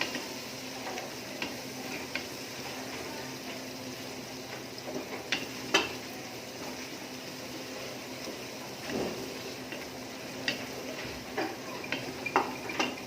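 Potatoes and eggplant cook in a pan for a dum-style dish, giving a steady low sizzle with scattered small ticks and scrapes, close and continuous, with no voices.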